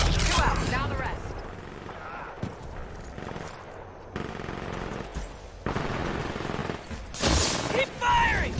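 Rapid gunfire bursts in Titanfall, loud and close, recur across the clip amid booming impacts, with voices talking over the shooting.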